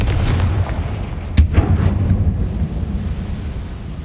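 A Confringo explosion spell cast in the video game Hogwarts Legacy bursts with a sudden deep blast and booming rumble that decays over a couple of seconds, loud and close.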